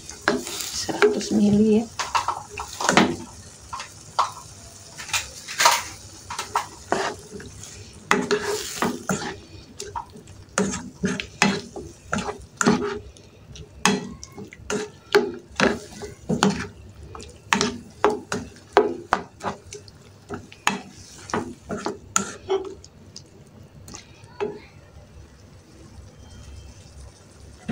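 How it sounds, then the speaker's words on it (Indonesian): Green beans, tempeh and egg being stirred and stir-fried in a pan, with repeated scraping and clinking of a utensil against the metal over a low sizzle, a brief splash of added water, and a voice speaking once. "Kita aduk, airnya masukkan sedikit lagi"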